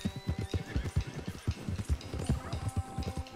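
Horse in the Red Dead Redemption 2 video game whinnying over a fast, steady clip-clop of hooves, loud and close, with the neighing running across the whole stretch.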